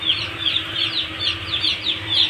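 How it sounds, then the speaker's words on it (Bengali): Many young chicks in a poultry farm brooder house lit by heat lamps, about 1500 birds, peeping continuously in a dense, steady chorus of high chirps. "তো এই যে মুরগির বাচ্চাগুলো সব"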